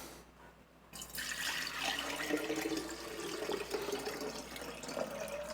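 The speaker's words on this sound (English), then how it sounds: "So we got some nice fresh water here." Fresh tap water pours steadily into a container for a Chemex Ottomatic coffee maker, starting abruptly after a quiet moment and continuing as a close, even splashing stream.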